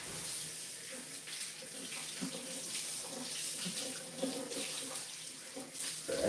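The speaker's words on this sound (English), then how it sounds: "I'll rinse off this knife." Water runs steadily from a kitchen sink tap as a knife is rinsed, a continuous close hiss and splash with faint clinks underneath and no voices.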